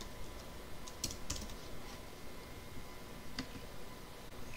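Someone types a name on a computer keyboard, producing sparse, faint key clicks and taps spread irregularly over quiet background hiss.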